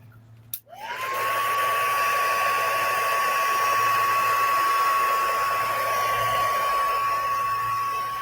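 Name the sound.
dryer blowing to dry a craft project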